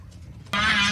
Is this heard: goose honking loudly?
yes